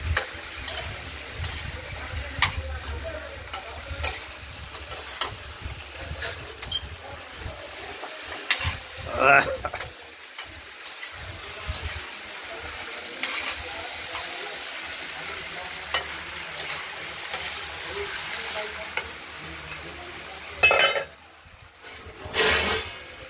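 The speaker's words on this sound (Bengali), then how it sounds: "এবার খানিক কষিয়ে নিয়ে মশলাটা কষা হয়ে গেলে" Spice paste for a mixed-vegetable curry sautéing in a pan, a continuous close sizzle with repeated scraping stirs and a few clatters, one sharper knock near the end.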